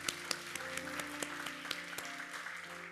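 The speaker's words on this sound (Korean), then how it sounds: "우리 한번 하나님께 감사의 박수를 드리겠습니다." A church congregation claps in thanks during a Korean worship service, a sustained crowd of hands with distinct sharp claps standing out and faint voices underneath.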